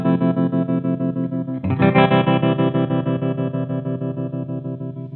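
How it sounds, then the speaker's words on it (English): Electric guitar through a Source Audio Neuro opto tremolo pedal, a sustained chord pulsing in steady rapid volume swells, re-struck about two seconds in and ringing on alone with no talk. "now I should be able to hear my normal original opto tremolo sound"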